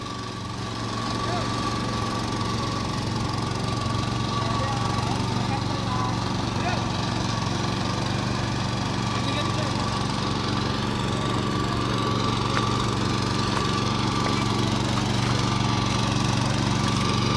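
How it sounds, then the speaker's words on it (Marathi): A steady, rumbling tractor engine drone runs continuously at close range during rice planting, even and unbroken, with a low throbbing hum throughout. "पाम्याने धरला आहे ट्रॅक्टर"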